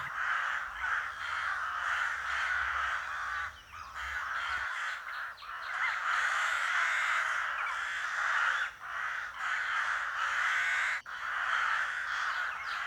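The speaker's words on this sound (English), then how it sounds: "Dozens of them arrived, flapping, screaming, protecting." Dozens of crows in a flock caw and scream at once, harsh overlapping calls forming a loud, continuous din with brief dips in intensity.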